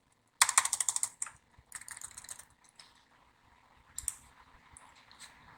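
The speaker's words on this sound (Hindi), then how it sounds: "बॉडी, इसके ऊपर कर्सर रख करके हम एंटर मार देते हैं" Fingers type on a computer keyboard while HTML is entered, a close rapid burst of clicky keystrokes followed by scattered single presses, including a firmer Enter key tap.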